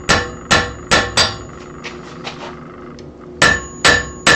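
A sharp hammer peen strikes a metal leaf to texture it, ringing metallic blows in loose groups of two or three with quieter taps between, close and loud with no talk.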